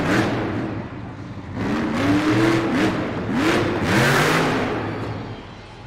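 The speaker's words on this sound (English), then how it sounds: "he's having some issues with that Monster Jam truck with firing throughout that freestyle run" A Monster Jam monster truck engine misfires during a freestyle run at an arena event in Toledo, Ohio, roaring loudly with uneven, stuttering bursts of revving that surge and drop repeatedly.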